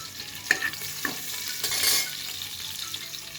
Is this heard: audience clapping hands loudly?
no